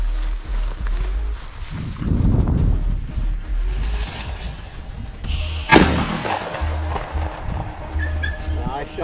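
A shotgun fires once, sharp and close, during a quail hunt outdoors, set amid wind and rustling with people talking around it.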